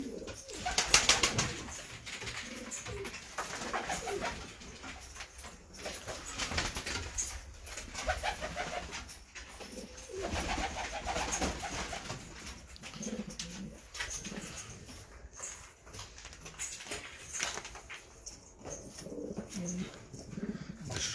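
Pigeons brought from Syria coo repeatedly at close range, their soft throaty calls overlapping in a continuous, steady chorus for about twenty seconds.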